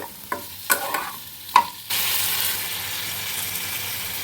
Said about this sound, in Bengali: এবার আমি জলটা দিয়ে দিই, বেশি করে জল দিচ্ছি